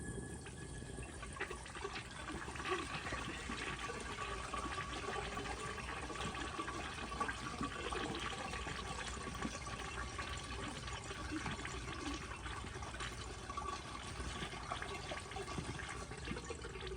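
Weak, low-pressure flush of a 2018 Kohler Dexter urinal fed by a garden hose: a steady, faint hiss of running water that continues evenly without a strong surge or gurgle.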